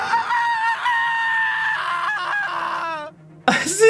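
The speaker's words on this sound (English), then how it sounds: "Kai's scream rang loud and clear in my eyes." A shrill, strained scream from Kai in the video game Project: Eden's Garden wavers loudly for about three seconds, cracks upward at the end, breaks off briefly, then flares again.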